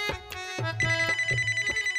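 A mobile phone ringtone plays alone, a bright electronic melody with short repeating pulsed notes that grows fuller after the opening chimes, clear and close.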